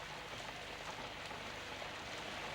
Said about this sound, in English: even simple things like rain can present major problems for the special effects